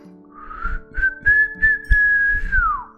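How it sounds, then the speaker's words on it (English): A person whistles a short, wavering tune of sustained notes that slide up and then dip down at the end, with faint low thumps underneath and no talking. "I guess I can't whistle either"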